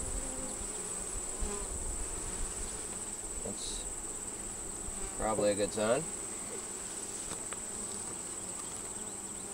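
Faint, continuous honeybee buzzing close by at an open hive, with a louder burst of wingbeats passing near and a short spoken remark.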